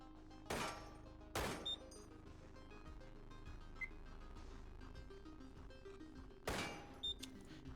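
Gunfire in the video game Receiver: three sharp, loud shots, two close together near the start and one later, each with a short metallic clink after it, over a steady low ambient hum.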